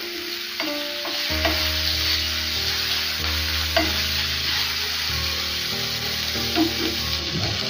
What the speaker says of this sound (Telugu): పొడవుగా కట్ చేసిన క్యాప్సికమ్ ముక్కలు కూడా కట్ చేసేసుకొని ఫ్రై చేసుకుంటున్నాను.